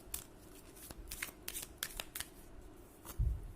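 Tarot cards being shuffled by hand during a pick-a-card reading, a run of crisp riffling bursts and soft flicks at close range, ending with a heavier tap or thump.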